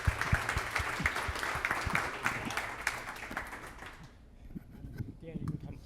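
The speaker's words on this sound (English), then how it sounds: "let's give a round of applause to Phil" People at a tech meetup in a room applaud for about four seconds, a fairly dense burst of clapping that stops abruptly, followed by quiet shuffling and soft speech.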